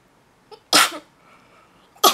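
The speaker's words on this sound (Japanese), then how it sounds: "なんか最近くしゃみめっちゃ出がち。" One sharp, loud sneeze bursts out after a short breathy intake, followed by the start of a second sneeze at the end.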